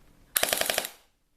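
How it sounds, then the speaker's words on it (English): A WELL R2 CZ Scorpion airsoft gun fires one short full-auto burst of about eight sharp, evenly spaced shots in rapid succession, close and loud, then silence. "It has quite a good trigger response and a very high rate of fire in full auto"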